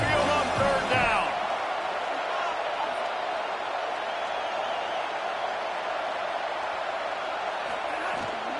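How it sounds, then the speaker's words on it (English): An Alabama Crimson Tide home crowd at Saban Field roars steadily on a third down, a dense, loud wall of noise that holds throughout, with a brief voice at the start. "The Tide crowd rolling noise down on the Saban field on 3rd down."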